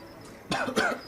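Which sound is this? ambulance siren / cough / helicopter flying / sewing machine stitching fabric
cough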